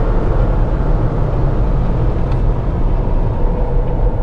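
A new Honda Civic on Michelin PS4 tyres lapping a race track, a steady loud engine drone and road rumble filling the whole stretch without pause.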